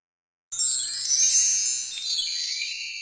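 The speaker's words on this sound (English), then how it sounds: "a little bell will ring in a minute" A small bell rings once in a quiet online lesson, a bright tinkling chime that strikes suddenly after silence and then lingers and slowly fades.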